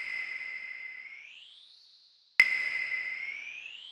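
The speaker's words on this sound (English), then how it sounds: "And this is based on the paradigm of a hall with naturally dispersed early reflections and a smooth reverb tail." Airy hall reverb from a Native Instruments RAUM plugin, with a smooth sweeping tone gliding in pitch, fading out, then a sharp click followed by a renewed bright sustained tail.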